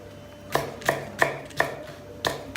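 A knife chops green peppers on a cutting board, six sharp, distinct thuds at a fairly even pace, close and clear with no talking.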